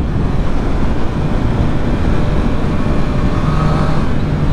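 Loud, steady engine roar and heavy wind rush from a 2020 Triumph Street Triple 765 RS pulling hard in third gear on the road, with the drone holding constant throughout.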